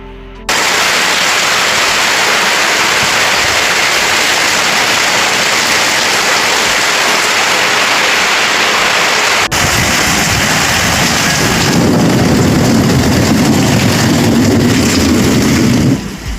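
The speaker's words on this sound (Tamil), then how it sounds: "இப்போ இந்த வீடியோ எடுக்கிற நேரம் காற்று இடி செம்ம மழை பொழியுது." Heavy rain pours down with wind and thunder in a steady, dense roar, continuous and loud throughout with no pauses, growing slightly deeper and fuller toward the end.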